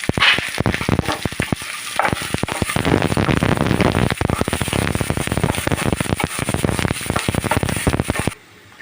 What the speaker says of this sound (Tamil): இப்போ கடுகு பொரிஞ்சோடனே ஒரு வெங்காயம் அண்டு கருவேப்பிலை ஆட் பண்ணி நல்லா வதக்கிக்கலாம்